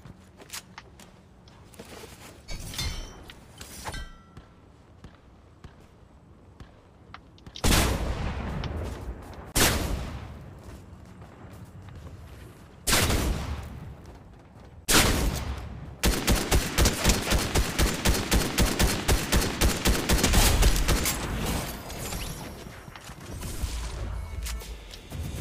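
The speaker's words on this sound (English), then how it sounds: "Yeah, there'll be some shooting." Gunfire in a Fortnite solo battle royale match: scattered single shots early, then loud bursts and a long rapid stretch of automatic fire mid-clip, with quieter footsteps and movement between volleys, no talking.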